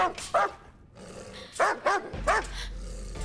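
A dog tied up outside an office in a film scene barks in several sharp, close bursts with brief yips, over a low rumbling soundtrack.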